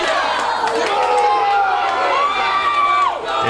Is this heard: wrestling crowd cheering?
yes